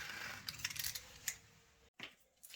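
Soft tile grout material being cut away from a wall with a utility knife: quiet, close scraping and snipping strokes in short bursts, with a brief silence before a few more cuts.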